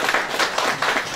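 Short burst of dense clapping from an audience celebrating an achievement at a company associate ceremony, steady and fairly close.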